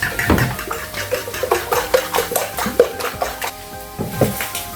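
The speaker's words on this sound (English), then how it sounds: "And with a fork, give it a whisk." A fork whisks eight cracked eggs in a bowl, giving quick, irregular clinks and scrapes against the bowl that repeat throughout at close range; no speech.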